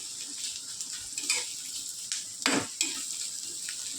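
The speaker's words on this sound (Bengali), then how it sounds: "পেঁয়াজটা একটু ভাজা ভাজা করে পেঁয়াজ দিয়ে বানাবো" Onions fry in a pan with green chilli for Maggi noodles, giving a close, steady hiss broken by a few spatula scrapes and clinks against the pan.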